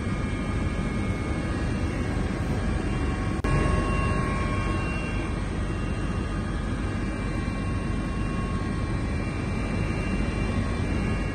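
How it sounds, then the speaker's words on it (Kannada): A helicopter flies over the Bengaluru–Mysuru national highway works on an aerial survey, giving a loud, continuous engine and rotor drone that stays steady throughout, with no talking. "ಹೆಲಿಕಾಪ್ಟರ್ ಮೂಲಕ ಈ ಪರಿಶೀಲನೆ ನಡೆಸಿದ ಬಳಿಕ ಶ್ರೀರಂಗಪಟ್ಟಣದವರೆಗೆ ಗಡ್ಕರಿ ವೈಮಾನಿಕ ಸಮೀಕ್ಷೆಯನ್"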